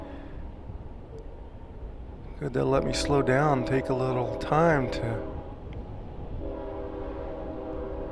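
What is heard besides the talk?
train passing with horn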